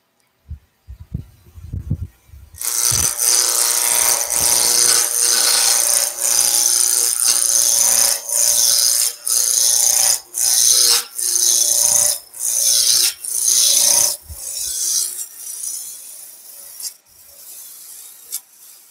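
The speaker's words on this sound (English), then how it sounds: "Turn the lathe on. And instead of going for the skew here, I'm going to go for the roughing gouge." Wood lathe spinning a blank while a roughing gouge cuts it down to a cylinder: loud, continuous close-up rasping and scraping that breaks into a rhythmic series of short cuts, then winds down and stops.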